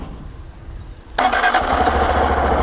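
A Honda Dax125 motorcycle with a newly fitted ignition coil and fresh spark plug starts almost instantly, a quiet low hum jumping into a loud, steady idle that runs on to the end.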